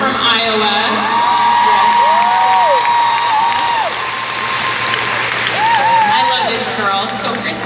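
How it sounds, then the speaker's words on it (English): An event audience applauds and cheers loudly, a dense, continuous wash of clapping with whoops and shouts rising over it, while a voice speaks over the crowd. "I would love for y'all to clap again"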